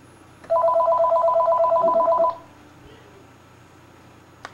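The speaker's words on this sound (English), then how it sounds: "The phone is ringing." A telephone rings in a room of a video game, one steady electronic ring lasting nearly two seconds, fairly loud over a quiet background, then silence.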